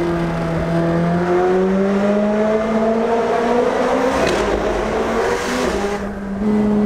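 A car on a European road trip accelerates hard, its engine note climbing steadily through the revs, a brief shift around the middle, then pulling again; loud, close and continuous with wind and road noise.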